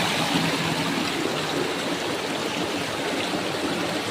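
Steady rushing of a flowing river, broadband water noise continuous and fairly close, with no voices.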